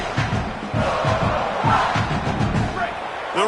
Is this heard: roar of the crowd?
yes